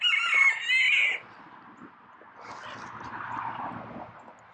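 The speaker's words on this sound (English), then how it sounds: "we got lots of chickens now" Caged chickens on rural land: a loud, close rooster crow opens, followed by quieter, scattered clucking over a faint low rumble.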